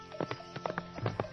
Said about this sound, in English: the farmer's son left the stable door open, and the horse ran away